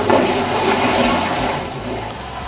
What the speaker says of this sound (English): the flush button, so we can at least do a flush